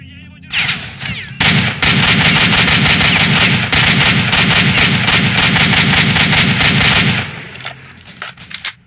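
Sustained automatic gunfire in the S.T.A.L.K.E.R. Shadow of Chernobyl video game, loud and dense rapid bursts lasting several seconds before trailing off into scattered shots.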